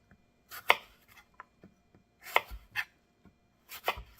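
Knife slicing through an apple for a cranberry apple cobbler: crisp, close cuts in three short clusters spaced over a few seconds, with quiet gaps between them and no talking.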